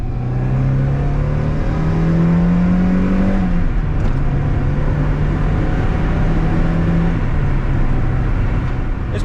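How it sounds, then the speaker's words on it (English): A Mazda Miata with a soft top is driven along, giving a continuous loud cabin rush of wind noise over a steady engine drone that rises in pitch, then settles, and holds throughout. "It's making a little bit of wind noise,"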